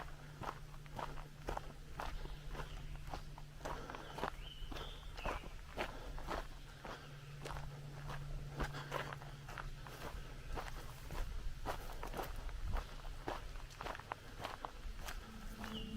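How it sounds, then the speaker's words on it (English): Heavy footsteps crash through brush in the woods, a fast irregular run of crunching, snapping steps that keeps going for the whole stretch, close and steady with no voices. "Heavy footsteps suddenly exploded through the brush."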